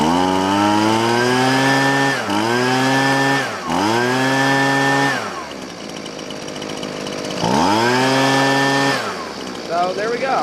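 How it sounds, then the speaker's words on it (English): A Husqvarna 125B leaf blower engine revs up and down in loud, close bursts: several rising whines held briefly, a drop toward idle, then another rev. "I'm just going to clean it up with a leaf blower."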